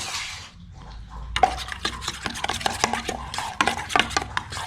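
Sour cream sauce stirred in a bowl with a utensil, a brief quiet pause then a run of close, rhythmic clinks and scrapes against the bowl, with no talk.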